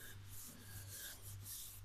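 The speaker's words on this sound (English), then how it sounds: "and that X pattern sanding" Sanding block rubbing over auto body filler in an X pattern, a soft, steady rasping scrape repeating in short strokes, faint and alone.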